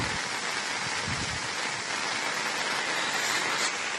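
Floodwater at Bhagamandala Triveni Sangama spills across a road after heavy rain, a constant broadband rush and hiss of flowing water, steady and fairly loud with no voices.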